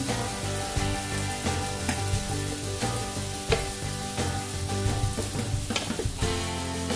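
Emergency survival food mix is stirred in a cooking pot while it sizzles, with a steady frying hiss broken by repeated scraping and clinking strokes of the stirring utensil.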